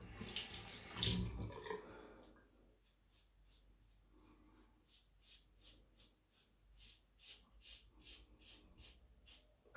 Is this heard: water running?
yes